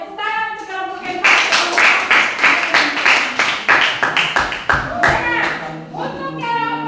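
Students in a junior high school classroom clap in a rhythmic burst for a group of classmates, sharp claps in a steady beat, with children's voices heard before and after.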